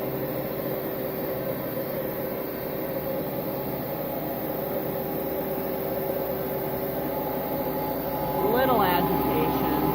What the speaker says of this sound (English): can hear the brush roll kick in.